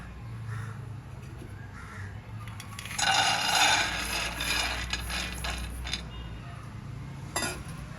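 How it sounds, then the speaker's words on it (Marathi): Peanuts crackle and rattle as they roast in a pan, a dense patch of dry crackling swelling midway over a low steady hum, with a sharp click near the end. "बघा असं चटचट आवाजही येतो बघा शेंगदाण्याचा"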